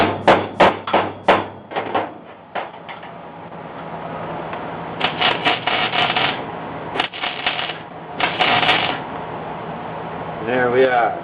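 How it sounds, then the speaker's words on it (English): Sharp metallic hammer taps on a freshly welded floor repair patch on a DeSoto, a quick burst of several close knocks at the start followed by scattered clinks and scraping under a steady low hum. "Got it hot, tap it down."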